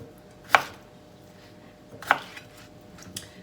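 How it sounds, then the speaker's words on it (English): A kitchen knife chops the gnarly end off a head of cauliflower on a cutting board: two crisp, close thuds about one and a half seconds apart, followed by a softer third knock, in a quiet room. "Just going to chop the end off because that looks a bit gnarly."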